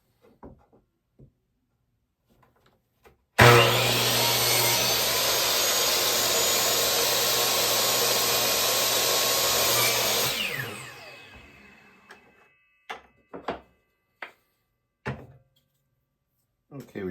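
A miter saw cuts three short pieces of scrap wood to serve as supports under a saw fence, its loud steady whine running about seven seconds, then spinning down, followed by scattered knocks and thumps as the cut pieces are handled.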